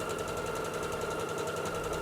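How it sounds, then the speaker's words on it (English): Serger overlocking the edge of fabric for wide leg pants, a fast, even mechanical chatter running steadily throughout, close and alone without talk. "I'm going to serge this edge first"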